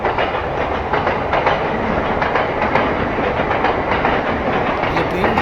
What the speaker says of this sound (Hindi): ये ट्रेन की आवाज़ है,